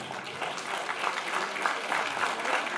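Applause from a crowd of spectators for football players at a photo session in Kuban, steady dense clapping throughout at a moderate distance with no break.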